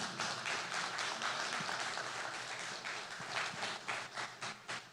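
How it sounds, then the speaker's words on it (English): Lecture-hall audience at a university architecture talk claps after the presentation, a fairly soft, even patter of many hands continuing for about five seconds with no voices. "let's give a big round of applause to our MEN collaborative"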